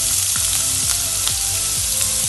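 Chopped onions sizzle and fry steadily in a hot pan for a semolina snack, loud and close, with a continuous crackling hiss and a few soft stirring scrapes.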